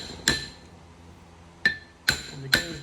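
A hammer strikes a gear to break a bolt. Four sharp metallic hits ring out, one alone and then three in quick succession, each with a bright clanging ring that fades quickly.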